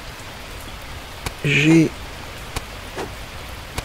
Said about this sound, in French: Ah, il repleut. Alors il ne fait que pleuvoir dans ce jeu.